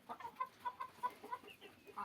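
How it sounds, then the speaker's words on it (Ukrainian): A young cockerel with long legs and a small comb gives a run of soft, evenly spaced clucks at close range in a quiet winter country-house yard. "Ось він, напевно, оцей буде півник"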